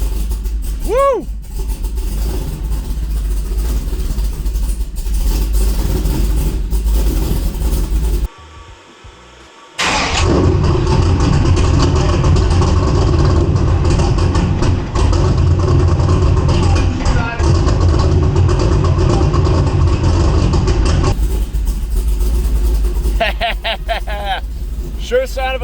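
A big-cam V8 in a Trans Am WS6 idles roughly and loud, with a lumpy uneven rumble, a short drop in level partway, and a person speaking over it.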